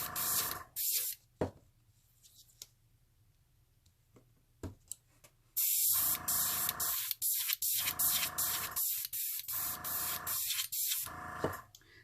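An airbrush running off a compressor set to 40 PSI blows alcohol ink into hibiscus petals, giving loud hissing bursts of air that start and stop repeatedly, with quieter gaps and faint clicks between sprays.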